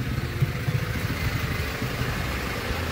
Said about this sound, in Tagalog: Naayos ang motor ni Kuya Perher.